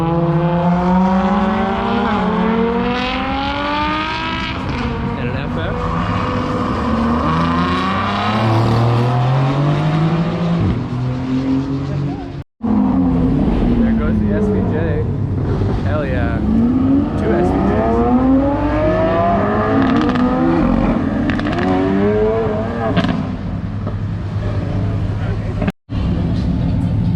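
A Ferrari FF and F430 drive past loudly, their engines roaring and rising and falling in pitch as they accelerate and rev, close and powerful for the whole stretch.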